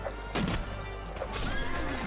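Horses in the Mount & Blade: Warband video game whinnying, with hoof clatter and battle noise in the background, moderately loud.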